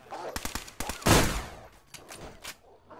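Gunfire in DayZ on Xbox One, likely from an AK rifle: several sharp separate shots and short bursts at close range, one louder booming report in the middle, with brief talk mixed in.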